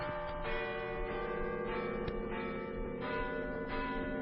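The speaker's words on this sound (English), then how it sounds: "Listen, the bells. Midnight." Church bells ring at midnight on Christmas, steady and continuous, a rich, resonant peal with overlapping tones sustained throughout, moderately distant.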